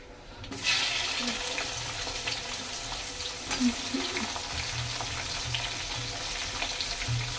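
Whole garam masala, cumin, chili and bay leaf tempering in hot oil make a steady, moderately loud sizzle that starts abruptly and runs continuously, with a few soft clinks; no talking.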